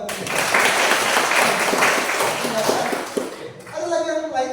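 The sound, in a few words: applause, people clapping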